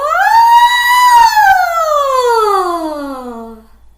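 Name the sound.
voice imitating a siren, sliding up and down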